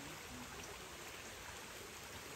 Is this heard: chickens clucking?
no